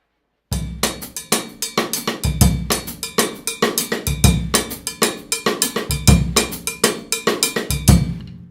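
A steady Afro-Cuban 6/8 bembé drum kit groove in a lilting triple feel, with a bright cowbell-like pattern over low kick and tom hits, played alone.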